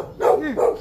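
A single dog gives two sharp barks, close by and fairly loud, outdoors on a morning outing.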